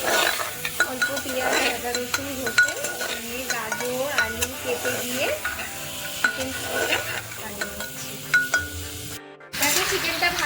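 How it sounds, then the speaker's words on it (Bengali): Onion and capsicum fry with whole garam masala in hot oil, a lively sizzle broken by frequent scraping stirs and small clinks of a spoon against the pan, close and busy. "ভাজা ভাজা করে নিচ্ছি পেঁয়াজ ক্যাপসিকাম দিয়ে গোটা গরম মশলা দিয়ে তেলের মধ্যে ফোড়ন দিয়ে করে নিচ্ছি"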